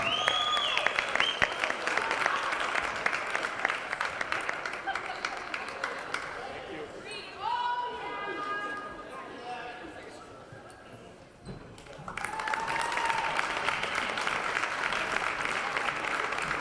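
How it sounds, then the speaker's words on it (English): A crowd in a gym at a girls' high school basketball game applauds a player being introduced, loud clapping at the start and end, with a quieter middle where an announcer speaks. "Ladies and gentlemen, please give a round of applause for number 2, Diana Grant Johnson"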